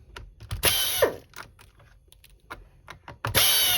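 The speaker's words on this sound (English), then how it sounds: "So we have 2 screws here and here, and we're going to take those out." Screws come out of a Hoover Floormate floor cleaner during a repair, heard as close, sparse clicks and ratcheting turns of a screwdriver with brief louder bursts of handling and scraping between quiet pauses.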